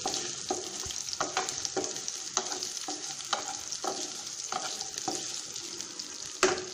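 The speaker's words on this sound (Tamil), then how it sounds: "இது கொஞ்சம் நல்லா வறுபடட்டும்" Onion and a green chili frying in oil with mustard seeds for a mushroom curry, a steady sizzle broken by repeated scraping stirs of a spoon in the pan, close and without speech.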